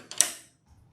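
A Yora 6550 laser engraver is lifted and set back in place, giving a short mechanical clatter and knock of metal parts up close, then quiet with faint handling.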